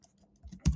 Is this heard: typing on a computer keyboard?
yes